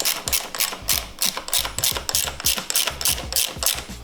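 A lock nut spins onto a lever bolt on a 2019 ZX10R motorcycle, producing a rapid, even train of close metallic clicks and ratcheting ticks.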